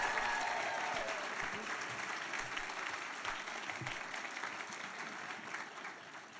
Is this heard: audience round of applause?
yes